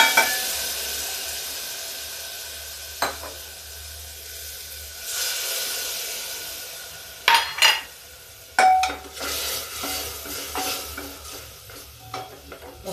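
Spices for a Lobia sabji sizzle in a hot pan over a high gas flame, a continuous close hiss broken by sharp clinks and scrapes of a spoon against the pan.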